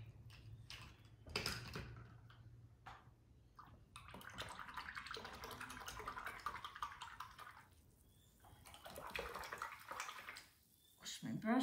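Paintbrushes swished and rinsed in a water container after watercolour painting, soft splashing and tapping close by at low level, with a person talking intermittently.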